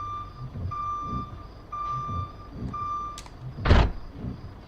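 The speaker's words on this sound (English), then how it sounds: "I personally really like the reverse beep sound thing." Reversing beeps from a truck in a truck driving video game, a steady series of evenly spaced electronic beeps over low engine rumble, with a louder thump near the end.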